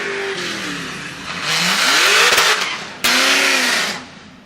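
A Ford Mustang stick-shift drag car revs at a race track, its engine climbing hard through two pulls separated by a sharp shift break, loud and close.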